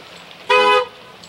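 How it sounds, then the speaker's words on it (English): A single short car horn honk sounds on a homestead driveway, loud and close, cutting sharply through quiet background and stopping after about a third of a second. "And I think honking the horn is funny."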